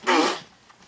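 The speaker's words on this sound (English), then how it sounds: "Did you just fart?" A short, loud fart bursts out at the start and fades quickly, followed by near silence and a small click at the end.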